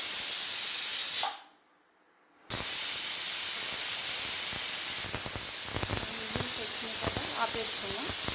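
Pressure cooker venting steam after several whistles while cooking a meat curry, a loud steady hiss broken by a short silence, then resuming with faint clinks and murmuring underneath.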